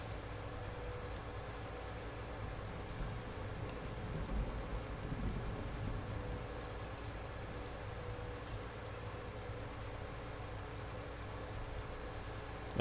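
Steady rain falls in the farming video game Landwirtschafts-Simulator 19, a dense, even hiss of downpour with faint low rumbling, continuous and alone for the whole stretch.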